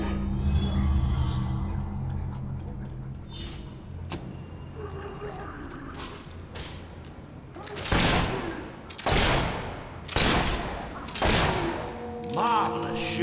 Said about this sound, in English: Marvelous shooting.